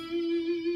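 A single sustained electric guitar note from an intro riff rings steadily and close for under a second, alone without talk.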